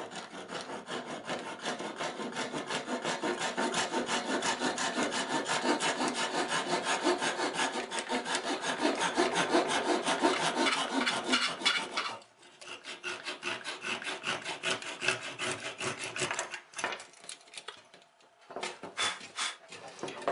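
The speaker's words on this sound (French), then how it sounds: "À l'aide d'une petite scie à main," A small hand saw works through a wooden dowel with steady rasping back-and-forth strokes, close up, then the rhythm breaks into shorter, choppier strokes with brief pauses.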